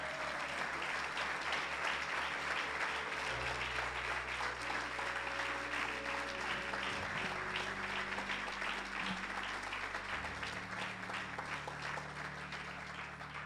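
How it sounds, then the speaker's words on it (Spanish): A church congregation claps continuously in a worship service, a dense sustained round of applause with low musical tones droning underneath throughout. "Den un aplauso al Señor, hermano."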